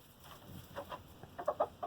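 Chickens cluck in short, soft bursts close by in a backyard flock that includes roosters, with several quick clucks in the last second.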